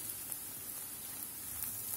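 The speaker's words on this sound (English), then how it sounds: "so I'll just add in some garlic" Garlic sizzles faintly in a pan with caramelized onion, a soft, steady crackling hiss with a few small pops and no voices.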